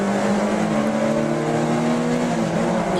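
Stock hatchback race cars in the 750MC Stock Hatch championship accelerate away together from a standing start, a dense, continuous high engine drone of several cars revving hard with no speech over it.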